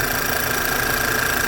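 A 2017 VW 2.0 TSFI engine idles steadily right after a timing chain replacement, a close, even mechanical drone with a faint high whine running through it and no voices.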